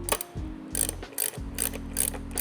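Ratchet driving 10mm bolts on a Land Cruiser roof rack, close rapid clicking in several short bursts with brief pauses between strokes.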